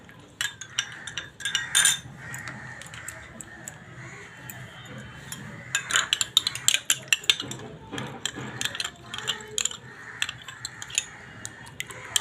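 Sour yogurt being mixed into milk in a bowl, a spoon clinking and scraping against the dish in quick irregular bursts, close and fairly clear with no talk.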